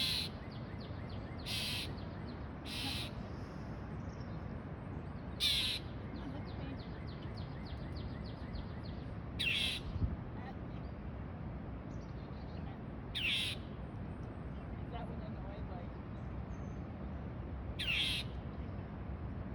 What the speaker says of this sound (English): What are you screaming about, you little chickadee thing?